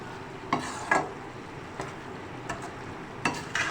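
Onions, garlic and ginger being stirred into keema in a pot, with a few scattered spoon scrapes and clacks over a soft steady sizzle, close by.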